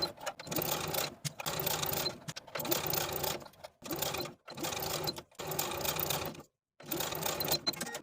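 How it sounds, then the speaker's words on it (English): A sewing machine stitches binding onto the bottom of a lace dress sleeve in rapid mechanical bursts, running in about six close, loud runs separated by short pauses, with no talk. "Sew the binding to the bottom of the sleeve with a 3/8 inch seam allowance."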